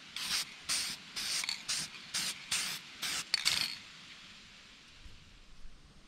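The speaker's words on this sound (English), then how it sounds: "give it a coat of clear lacquer to seal it all in" Clear lacquer is sprayed onto a painted replica crappie fish mount in about a dozen short, close hissing bursts in quick succession. A quiet stretch follows.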